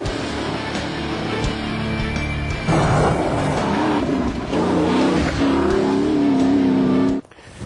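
A Bowler Wildcat off-roader accelerates hard, its engine roaring loud and close as it revs up through the gears in a sustained, rising surge before cutting off abruptly at the end.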